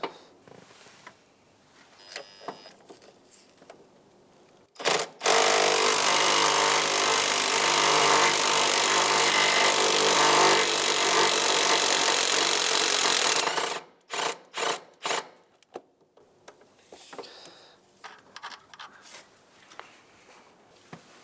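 A long steady mechanical whir, most likely a power ratchet or drill on a socket and extensions backing out a 5/16 intake manifold bolt on a 2007-2015 Mazda CX-9 engine, running about eight seconds between scattered clicks and clanks of tools.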